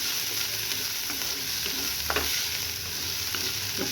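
A small, finely chopped onion frying in a pan until golden brown, with a continuous close sizzle and occasional stirring scrapes, and no voices.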